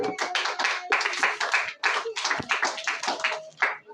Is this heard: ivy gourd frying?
no